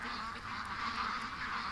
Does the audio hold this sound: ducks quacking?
yes